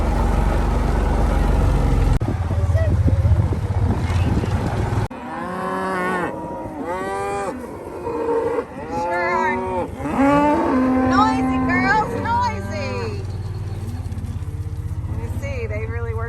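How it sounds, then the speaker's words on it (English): Cattle lowing repeatedly on open grass pasture under a blue sky, several drawn-out moos overlapping at moderate distance, with people talking nearby and low wind or engine rumble underneath. "little pretty cows on pretty grass with a pretty blue sky"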